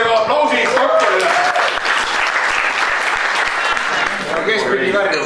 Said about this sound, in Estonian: teeme ka aplausis doktorile